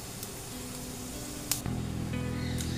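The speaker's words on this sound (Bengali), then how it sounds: "জিরে ফোড়ন দিয়ে দিলাম" Cumin seeds dropped into hot oil left over from frying paneer, bursting into a steady close sizzle after a soft tap, with no talk.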